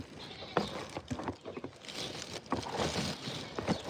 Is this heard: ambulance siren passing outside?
no